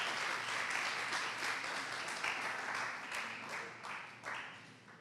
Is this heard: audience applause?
yes